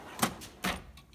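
A metal tool box drawer slides open in two short rolling bursts, fairly close and moderately loud, with a brief rattle of tools inside and no talking.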